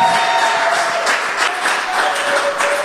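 A church congregation claps and acclaims the Lord during worship, a dense, steady wash of applause that holds evenly throughout, with a faint sustained tone underneath.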